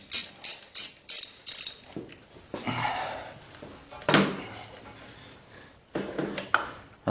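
Socket ratchet clicking in quick bursts as a bolt is broken free on a Briggs & Stratton small engine, close and crisp, followed by scraping metallic handling noises and a few more clicks.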